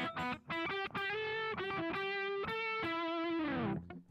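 Electric guitar played through an Analog Alien Rumble Seat pedal with its treble heavily cut, a run of sustained, distorted notes and chords with dull, rounded tops, ending on a long held note that fades out.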